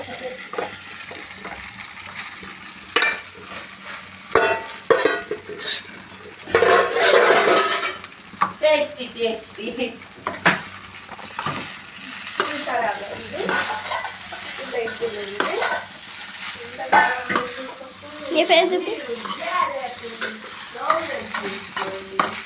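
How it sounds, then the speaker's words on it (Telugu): Rice being stirred into garlic fried in oil in a pan, with steady scraping, clinking spatula strokes over a soft sizzle, close and fairly loud with irregular bursts of activity. "ఇప్పుడు ఇందులో అన్నాన్ని వేసుకొని కలుపుకోవాలి"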